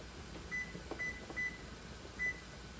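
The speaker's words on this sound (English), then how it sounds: "so I need to set my timer." Four short electronic beeps from a kitchen timer set while water boils for a shrimp boil, evenly spaced and then one after a pause, over a steady background hum.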